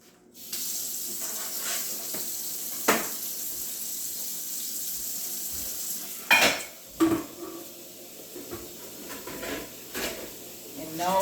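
Grease from cooked ground chuck for chili drains into a metal bowl, a steady liquid pour with clanks of metal cookware and a few louder knocks, close by.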